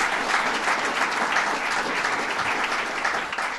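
An audience claps for Bill Magnarelli at an event announcing a new Starwood hotel at Syracuse Inner Harbor, a dense, steady round of applause from a fairly large crowd that continues throughout.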